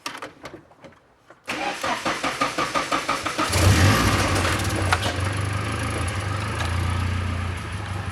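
A Volvo 240 car engine cranks with a rapid, even series of rhythmic pulses for about two seconds, then catches and settles into a loud, steady running rumble close by.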